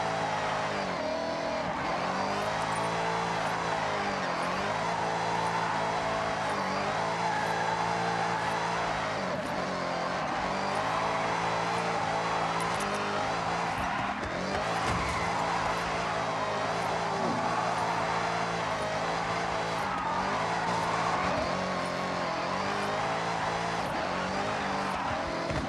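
A car in Forza Horizon 6 holds its engine near the redline, a loud, steady, high-revving drone with rising and falling pitch as it shifts through gears, with tyre noise and no talk.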